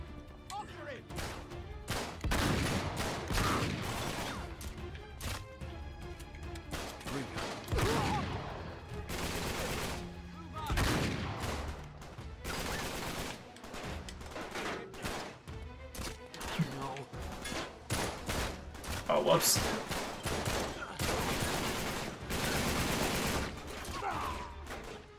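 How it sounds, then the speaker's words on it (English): Shotgun blasts and other gunfire in the Uncharted 3: Drake's Deception video game, loud repeated bursts spread steadily through the clip, with game voices and a player talking in between. "Man, this shotgun."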